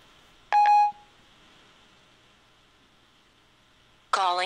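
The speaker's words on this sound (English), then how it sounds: "So it's going to dial your number." Touch-tone phone dialing from a voice-assistant call: a short burst of rapid beeping tones, then quiet, then a brighter ringing or chirping tone starting near the end, with no talking.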